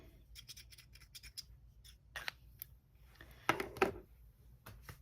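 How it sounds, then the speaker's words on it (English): A pair of snips is opened and closed repeatedly, making crisp close metallic snipping clicks in quick irregular bursts, with a couple of louder snaps near the end against a quiet room. "Another pair of snips."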